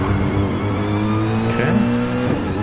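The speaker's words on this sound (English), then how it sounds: "braking right at the 100 board there, downshifting all the way to first" A race car engine brakes and downshifts, its revs stepping down through the gears in quick succession, loud and close with a steady mechanical whine throughout.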